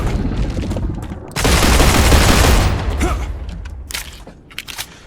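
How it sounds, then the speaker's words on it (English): Rapid rifle gunfire in the sci-fi video game Star Rupture, a sustained loud burst of automatic shots emptying a magazine, preceded and followed by busy game combat noise. "Once you get your rifle, you can mag dump on his legs too."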